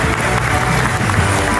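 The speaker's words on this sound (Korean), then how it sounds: "큰 박수 보내주십시오" Audience applause at a regional innovation forum opening ceremony, dense steady clapping from a large indoor crowd, loud and continuous throughout.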